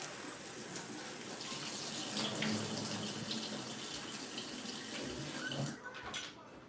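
Freshly harvested aeroponic garden produce is rinsed under a running sink tap, a steady close splashing stream of water that continues throughout and tapers off near the end, with no voices.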